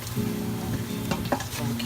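A roux for crawfish etouffee cooks in a pot, giving a close, steady sizzle with a few scraping stirring strokes over a brief stretch and no speech.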